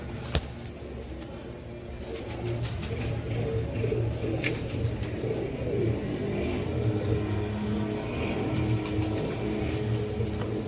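Rare pet pigeons coo softly and steadily at close range. Faint traffic rumbles underneath, and a sharp tap sounds near the start.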